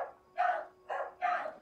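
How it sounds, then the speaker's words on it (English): A dog gives three short barks in quick succession, sharp and moderately close, with brief gaps between them and no one talking. "I love when dogs bark."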